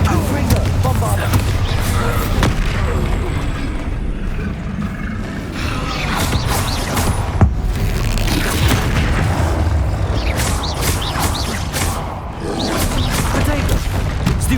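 Spell explosions from Confringo, Bombarda and Incendio in Hogwarts Legacy: repeated booming blasts and crashes over a dense, loud combat din, with a voice calling out spells throughout.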